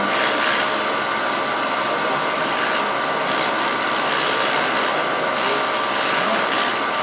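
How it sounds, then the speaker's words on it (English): Sandpaper at 80 grit rubs against a wooden Christmas ornament spinning on a lathe, giving a steady, close, continuous abrasive hiss over the motor's hum that runs unbroken from start to finish. "I'm using my sandpaper on the back side so I don't have to move the tool rest all the time."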